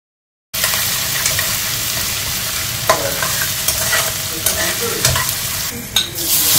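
Ground spices (turmeric, cumin, coriander and Kashmiri red chilli powder, with salt and a little sugar) are stirred into sizzling masala, a loud steady fry broken by repeated scraping strokes after a brief silent start.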